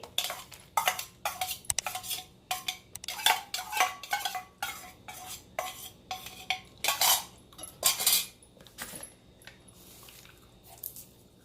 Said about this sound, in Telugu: ఇప్పుడు రోట్లో వేసుకొని దంచుకుందాము